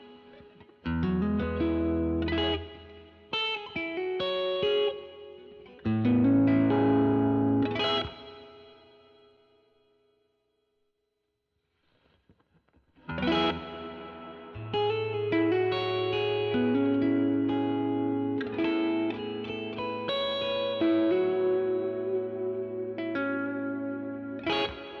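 A guitar played through a Meris Mercury X reverb pedal at its highest, infinite setting: chords swell into long sustaining washes that fade almost to silence, then a fresh strum builds a dense, lingering ambient pad.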